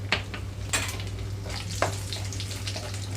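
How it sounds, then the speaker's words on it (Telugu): Gentle, continuous sizzling of tempering seeds and dried red chillies frying in oil over a low flame, with a few sharp pops and clinks of a spoon against the pan over a low hum. "లో ఫ్లేమ్లో ఉంచి వేయించుకుంటున్నాను ఈ తాలింపు గింజలన్నీ చక్కగా వేగిపోవాలి"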